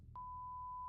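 A censor beep sound effect: a single steady, pure electronic tone that starts abruptly and holds for nearly a second over faint low background noise.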